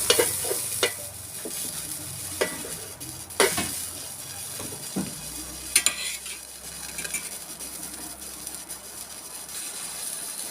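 Water poured into a hot pan while making pitha, giving a steady frying sizzle with scattered clinks and scraping knocks of a utensil stirring against the pan, close and fairly quiet throughout.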